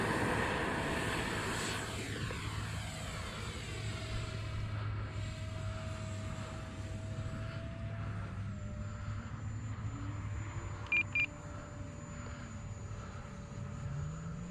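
A Fly Fans Red Falcon K-8 radio-controlled model jet on its maiden flight: a steady, whining turbine-like drone whose pitch slowly bends as it passes, sounding moderately distant, with no voices.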